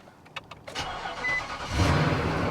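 A used truck with 82,000 miles starting up: a few sharp clicks, then a brief crank before the engine catches and settles into a fuller, steady idle.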